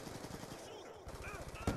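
Rapid automatic gunfire from a video game rattles in quick bursts, faint and tinny, ending in a sharper, louder shot. A voice can be heard lightly underneath.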